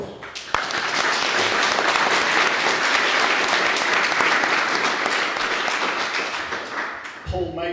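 Sustained, loud audience applause for a panelist at a pre-election conversation on Ukraine fills the room for about seven seconds before a speaker's voice cuts in at the end.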